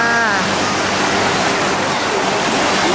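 A busy waterfall roars in a dense, unbroken rush of falling water, loud and close. A faint voice drifts underneath at the start.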